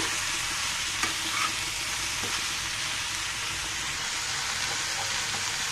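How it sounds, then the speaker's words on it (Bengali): Bitter gourd curry with salt added is stirred in a pan, a steady even hiss of frying with faint occasional scrapes of the spoon, close and continuous. "লবণটা দিয়ে আমি আবারও ভালো মতো নেড়ে ছেড়ে দিচ্ছি"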